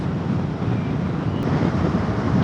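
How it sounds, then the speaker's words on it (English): Wind roars inside a motorcycle helmet while riding, a dense, steady, close rush that fills the whole clip with no speech over it. "I'm hearing a lot of wind noise"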